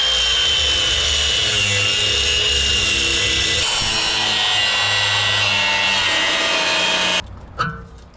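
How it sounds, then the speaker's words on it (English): An old muffler is cut off a Ford F250 Super Duty with a power cutting tool, giving a loud, steady, rasping whine that runs without a break, then cuts out abruptly near the end, followed by a brief metallic knock. "First we need to get the old muffler cut off."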